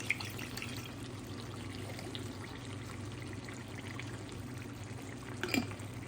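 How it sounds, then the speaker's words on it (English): Water poured into a cast iron pan that still holds burger grease, a soft steady stream running for several seconds at low level, with a small clink near the end. "Put a little bit of water in there."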